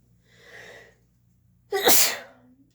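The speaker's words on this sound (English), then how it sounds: "I'll have a little sneezing fit here" A single loud, sharp sneeze bursts out after a soft intake of breath, close and clear in a quiet room.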